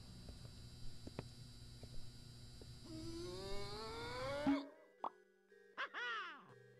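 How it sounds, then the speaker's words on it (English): Ceiling lights in the Backrooms give off a steady electrical hum that rises in pitch, then cuts off abruptly, followed by a few short plops and warbling tones. "The lights make noise."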